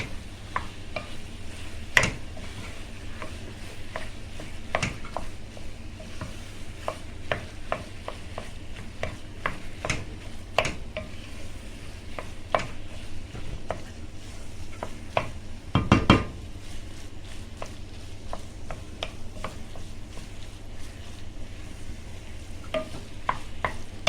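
Carrot halwa thickened with starch is stirred in a pan, a spoon repeatedly scraping and knocking the metal in an irregular rhythm over a faint sizzle, close by, with one louder clatter midway and no speech.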